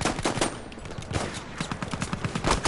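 Battlefield 1 gameplay gunfire: rapid bursts of automatic weapon fire crackle in quick succession, dense and sharp, with overlapping shots and distant battle noise filling the background.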